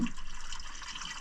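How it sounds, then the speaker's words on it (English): Engine oil draining from the oil pan of a Class A RV during an oil change, a brief steady liquid trickle and patter, close and quiet, with no talking. "let it drain out completely until it stops dripping out of the pan"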